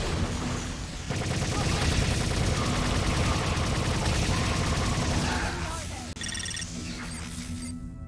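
Rapid, dense gunfire and explosive bursts from a grenade launcher in Star Trek: Voyager - Elite Force, a loud continuous barrage lasting several seconds before thinning out, with a sharp crack near the end.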